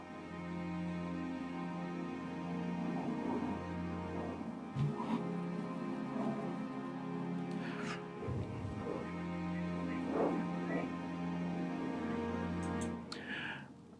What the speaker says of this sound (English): You can see a cello sound, and then it sounds like this.